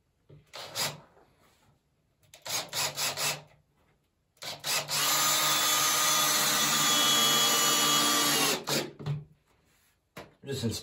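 Edges of a wooden sauna bench are sanded by hand, with short rasping strokes, then one long steady stretch of abrasive rubbing near the mic and further brief passes at the end.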